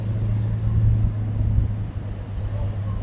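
Steady low rumble of cars moving through busy street traffic, continuous and fairly close, with engine drone filling the low end and no clear individual pass-bys.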